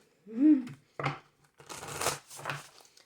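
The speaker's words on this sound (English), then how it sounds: "One more shuffle." Tarot cards shuffled several times in quick bursts, a crisp riffle followed by softer flutters and taps, close by with no talking.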